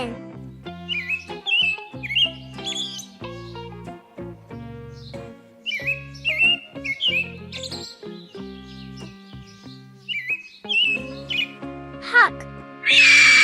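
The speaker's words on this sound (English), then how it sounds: "Robin." A robin sings in repeated bright, whistled phrases, clear and fairly loud, set over continuous background music and ending in a louder burst.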